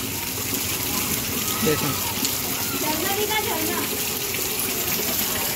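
Heavy water pours and splashes steadily into a courtyard, like a small waterfall, while a voice speaks briefly over the rushing flow.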